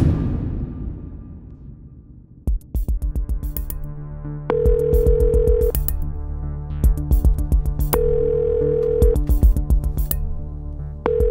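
Telephone ringback tone on an unanswered call: repeated electronic ring bursts in steady pulses after a fading tone at the start, clear and close with no talking.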